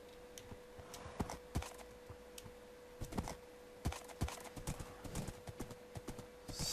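Minecraft horse hooves clip-clop in short irregular bursts of sharp taps inside a horse pen, with a faint steady tone humming beneath; no talking.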